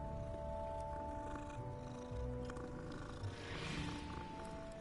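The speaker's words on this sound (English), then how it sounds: "That's a white cat now, look at this." A white cat purring in the video game Hogwarts Legacy, a faint, low, continuous rumbling purr set against a quiet ambient game background, with no talking.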